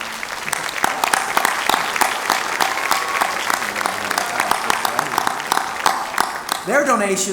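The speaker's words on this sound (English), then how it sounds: "Please join me in a round of applause for the companies you see listed on the screens behind us." Crowd at an MLK Day of Service celebration applauding event sponsors, sustained rhythmic clapping throughout, with a voice speaking over it near the end.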